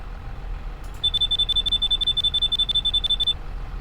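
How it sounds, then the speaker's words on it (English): Rapid series of sharp electronic beeps from a machine filling up in the video game Farming Simulator 25, repeating steadily for about two seconds over a low ambient rumble, fairly loud and with no talk. "It does this crazy beeping as it starts filling up."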